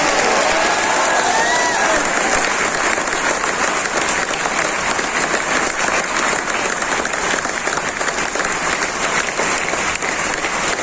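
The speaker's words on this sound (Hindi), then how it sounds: "चलो यार बजा लेते हैं ताली, क्या करें।" A large audience fills a lecture hall at a career institute with sustained, dense applause, loud and continuous for several seconds, with a voice briefly audible over the clapping at the start.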